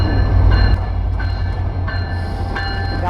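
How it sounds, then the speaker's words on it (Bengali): The Madhumati Express rolls into Kushtia Court railway station with a heavy, steady rumble, its wheels clacking over rail joints every half second or so at close range. "আমাদের ট্রেন কিন্তু ইতিমধ্যে কুষ্টিয়া কোর রেলওয়ে স্টেশনে কিন্তু চলে এসেছে"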